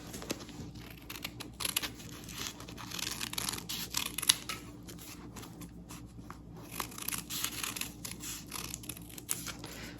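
Scissors snip through coffee filter paper up close, a run of quick crisp cuts and papery rustles that repeat irregularly and fairly quietly throughout.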